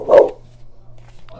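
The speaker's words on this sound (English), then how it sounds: "So that's my dog." A pet dog named Buzz gives one loud, close bark or yelp at the start, followed by quieter low background hum with faint sounds near the end.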